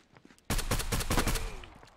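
Semi-automatic HK rifle gunfire in the VR shooter game Contractors, a rapid close burst of about eight sharp shots in quick succession after a short quiet lead-in.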